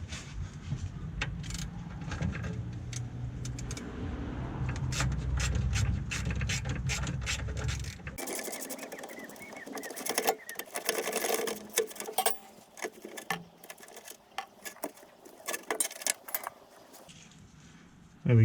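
Nuts on the underside of a Classic Mini injection fuel filter housing being undone with a ratchet, giving rapid clicking bursts and metallic tool clatter close by, followed by scattered clinks and handling noises.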